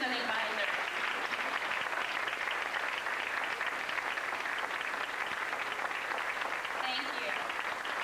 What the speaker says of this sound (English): If you would please stand up for a round of applause that you have earned